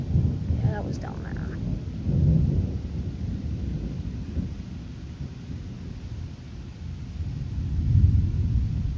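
Thunder rumbles through a thunderstorm, with low rolling surges that swell near the start, around two seconds and again near the end, over a steady wash of rain, and no clear talk.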